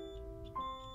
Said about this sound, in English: it will have the sound beep, and the ohm number will display on the data display